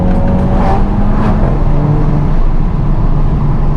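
Volkswagen GTI engine heard from inside the car under hard acceleration, a loud continuous rising drone with road and tire roar filling the cabin, no talking.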